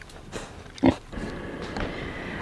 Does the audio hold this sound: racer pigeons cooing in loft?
no